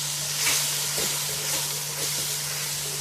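Coarsely pounded green chillies, garlic and ginger fry in a pan with a soft, steady hiss and sizzle, a few faint stirring scrapes on top, with no talking.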